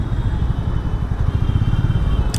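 A Hero Mavrick 440 motorcycle riding through heavy Bangalore traffic, its engine thumping in a steady low pulsing rhythm, loud and close, with a brief sharp click near the end.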